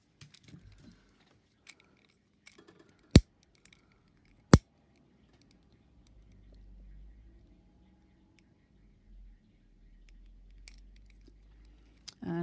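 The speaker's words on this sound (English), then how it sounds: "I need to trim the wick on the candle." Scissors snip a candle wick with two sharp, isolated clicks close by, amid faint handling rustles and brief low talk near the end.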